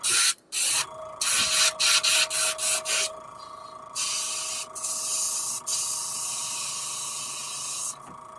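An airbrush spraying paint onto fishing baits gives short hissing bursts in quick succession, then longer sustained sprays, close and clear with no talking.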